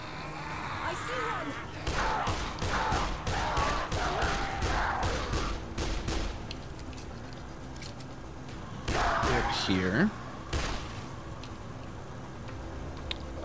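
Gunfire in the co-op zombie game Dead Island Riptide, a string of sharp in-game shots in bursts over the first six seconds and again near the ninth second, with players talking over it.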